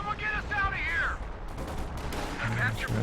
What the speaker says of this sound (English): it sounds like that's the priest firing in somewhere